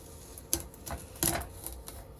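Vinyl with transfer tape being peeled down during a craft cut, giving a few short crackling, tearing bursts spaced irregularly, close and fairly quiet with no talking.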